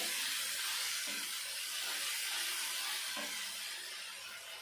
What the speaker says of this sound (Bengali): ভালো করে কষতে হবে, নইলে আদা রসুনের যে কাঁচা গন্ধটা থাকে তরকারিটা খেতে ভালো লাগে না